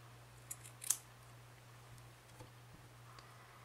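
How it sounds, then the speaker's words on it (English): Scissors trim excess yarn from a crocheted medallion necklace, giving two soft, quick snips close by early on, then near silence over a low steady hum. "And now I'm going to cut off some of this excess."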